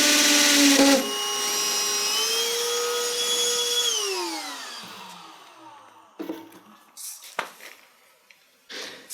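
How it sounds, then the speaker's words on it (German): A power drill bores through a clock movement into a wall, whining steadily for several seconds before winding down, followed by scattered clicks and handling knocks. "Now we can drill the second hole."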